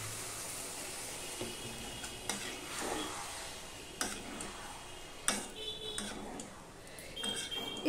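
Masala mixture cooking in a pan, quietly stirred with intermittent utensil clicks and scrapes over a faint low sizzle, close but soft.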